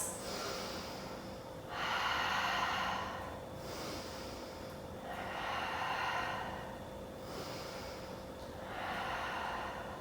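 Slow, deep yoga breathing during a vinyasa flow, close to the listener: about three long airy inhale-exhale cycles, steady and unhurried, over a faint background hum with no talking.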